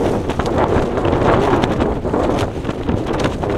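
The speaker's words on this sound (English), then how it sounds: "I don't think I'll get much sleep with this wind" Gale force wind buffets a Lanshan 2 tent while camping in the Peak District, a loud, constant roaring rush with fabric flapping and gusting that hardly lets up.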